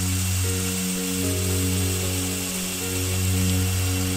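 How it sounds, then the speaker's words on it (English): A Downland Engineering grinder grinding a knife blade, a steady motor whine with sustained tonal hum and a bright hiss of abrasion, constant and close for a few seconds. "The grinder I'm using here is a Downland Engineering grinder made by Alistair."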